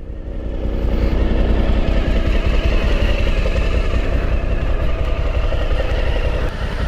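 A motorcycle engine runs loud and steady while riding on a country road past farm pastures in Acre, with a continuous rumble and wind noise and no talking.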